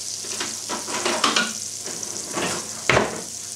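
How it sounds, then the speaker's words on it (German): Fat sizzles in a hot frying pan with a steady crackling hiss, broken by several louder spattering bursts and scraping stirs, close and alone with no talking. "Wir machen also hier wieder ein wenig Fett"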